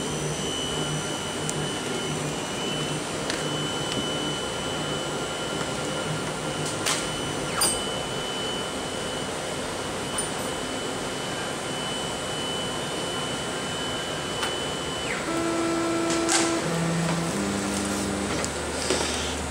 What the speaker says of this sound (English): the machine will then home in the Z axis first, and then the X and the Y simultaneously